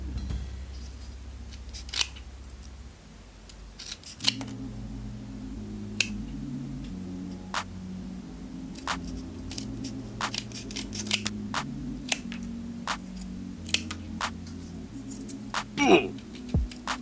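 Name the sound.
scissors cutting cardboard box paper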